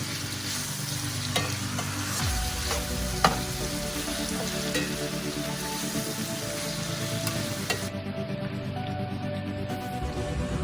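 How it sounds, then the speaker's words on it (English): Zucchini and kale cooking in a pan, a steady close sizzle with occasional clicks and scrapes of stirring throughout, no talking. "Then you stir, mix it all together and cook it for about maybe 15 minutes or until it softens."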